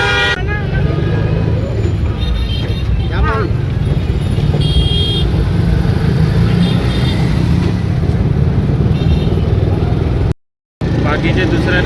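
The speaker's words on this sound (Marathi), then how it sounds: "आता आम्ही ट्रॉफिक मध्ये आहेत बघा तुम्हाला" Busy road traffic heard from inside an auto-rickshaw on a sunny day: a loud, steady rumble of cars and buses with repeated horn toots, cut by a brief dropout near the end.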